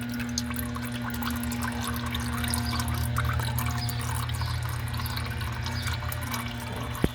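Engine oil draining from a 2014 Ford Escape 1.6L during an oil change, a steady continuous liquid stream running and splashing into a pan, with a low mechanical hum beneath and a sharp click near the end.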